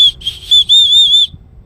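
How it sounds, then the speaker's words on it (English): Small whistle built into the ferro rod of a Leatherman Signal multi-tool, blown close up in three shrill, piercing blasts, two short and one longer, with no talking. "it's got a little whistle in there."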